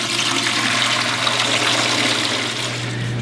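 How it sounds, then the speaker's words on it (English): Water drains from the hose of a Fluval FX4/FX6 canister filter into a bucket through an open utility valve, a steady rushing, gurgling flow heard up close and continuous throughout, with no talking. "and the water will drain out."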